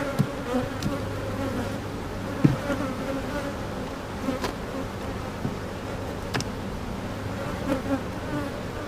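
Honey bees hum steadily around an open hive during a brood chamber inspection, with a constant low drone and scattered nearer buzzes of single bees passing by.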